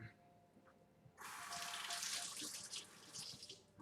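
A plum tomato is rinsed under a running kitchen tap: a quiet room gives way to a steady close splashing rush of water that continues to the end.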